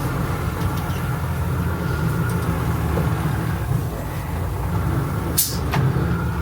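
An old International ACCO truck, abandoned for over a decade, drives along while being shifted through its gears. A steady, loud low engine rumble runs throughout, with a brief sharp hiss near the end.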